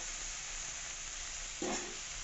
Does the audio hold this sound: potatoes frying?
yes